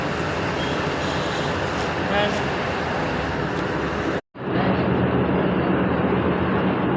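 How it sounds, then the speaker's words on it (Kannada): A train pulls out of Baiyappanahalli station in Bangalore after a halt, its steady, loud rumble filling the space around it. The noise breaks off for a moment and then resumes. "2 ನಿಮಿಷ ಹಾಲ್ಟ್ ಇತ್ತು, ಆದರೆ 5 ನಿಮಿಷ ಹಾಲ್ಟ್ ಮಾಡಿಬಿಟ್ಟು ನಿಲ್ಲಿಸ್ಬಿಟ್ಟು ಈಗ ಡಿಪಾರ್ಟ್ ಆಗ್ತಿದೆ ಬೈಯಪ್ಪನಹಳ್ಳಿಯಿಂದ"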